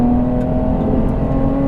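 A 430 WHP supercharged Nissan 370Z with a loud aftermarket exhaust drones steadily and close under acceleration, a constant buzzing engine tone with no break.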